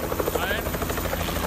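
A helicopter arrives to collect passengers on a trip in Zimbabwe, its steady rotor chop and engine whine loud and close throughout, with a voice talking over it.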